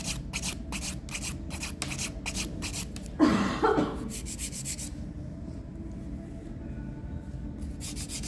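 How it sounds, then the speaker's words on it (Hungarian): An acrylic gel nail in a ballerina shape being filed and thinned at its edge, giving rapid rhythmic rasping strokes up close that ease into softer, slower rubbing later on. "a két oldalról még tudok reszelni belőle"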